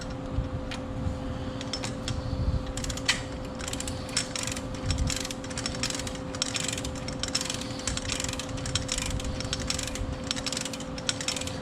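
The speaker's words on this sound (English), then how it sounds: "we're going to go ahead and tighten these down to the correct torque" A torque wrench tightens the front wheel bearing nuts on a 1983 Toyota Land Cruiser, giving repeated sharp ratchet clicks in uneven bursts against a steady background hum, with no voices.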